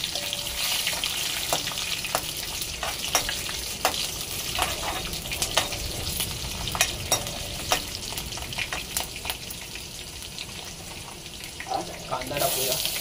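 Garlic, whole spices and chopped chillies crackle and sizzle continuously in a hot pan, with scattered stirring clinks and pops throughout.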